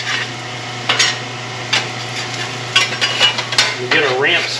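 Bread and ramps cook on a Blackstone griddle with a steady sizzle, broken by several sharp scrapes and clanks of a metal spatula on the hot flat-top.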